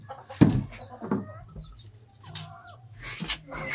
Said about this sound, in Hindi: अब मैं आपको दिखाता हूँ हमारी वो जो कुड़क मुर्गी है